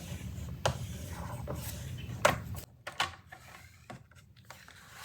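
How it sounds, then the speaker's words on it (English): Paper scored with a scoring blade trimmer for a pop-up card: a steady low scraping rub as the blade presses down and runs up the paper, with a few light taps and clicks, close and quiet. "you're going to press down on the paper and score up"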